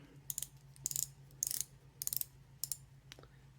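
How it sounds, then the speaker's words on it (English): Ratcheting clicks from the 60-click unidirectional bezel with a non-ceramic insert on a Tevise T801 watch, turned in short bursts of several close, crisp clicks separated by pauses over a steady low hum. "The bezel is a 60 click unidirectional with a non-ceramic insert. The clicks are loud"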